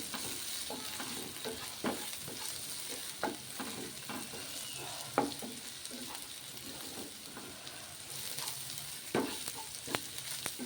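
Boiled egg fry with onions and freshly ground pepper powder being stirred in a pan, a gentle sizzle under scattered scraping spoon strokes, close and fairly quiet with no talk.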